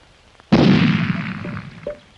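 A single loud, close gunshot, the last bullet fired in a French adventure series, with a sharp onset followed by a rumbling decay of about a second and a faint click near the end.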